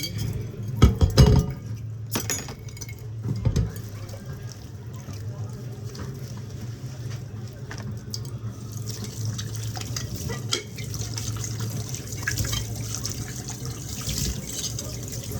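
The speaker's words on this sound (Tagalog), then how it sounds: "Hugasan na natin para ready na yung ating talbos ng kamote." Sweet potato leaves being rinsed in water, with a few glassy clinks and splashes early on, then a steady wash of running and sloshing water through the rest.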